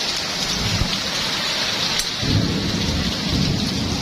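Steady heavy rain, with hail mixed in, pours down outdoors in a garden of potted plants, a dense close hiss, while thunder rolls low and deep beneath it.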